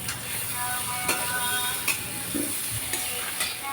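Potato and pumpkin fry with soaked chickpeas in a pan, making a steady close sizzle, with a few spoon knocks and scrapes against the metal as the mix is stirred.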